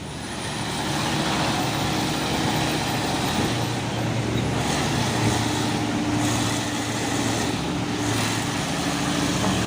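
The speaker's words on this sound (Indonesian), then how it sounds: "Oh, ada juga truk trailer Isotec." An Isotec trailer truck climbs a hill in a convoy, its engine rumbling low and steady amid passing road traffic, with several soft whooshing swells as vehicles go by.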